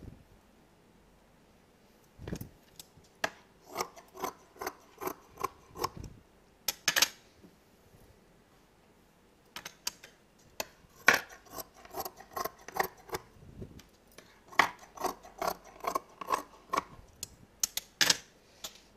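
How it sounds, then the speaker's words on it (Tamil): Scissors snipping through cloth to cut out a dress neck design, a close, quiet sequence of crisp clicking cuts in quick bursts, separated by short pauses. "இப்போ இது வந்து கிளாத்தில் கட் பண்ணி நம்ம அப்படியே எடுத்துக்கலாம்."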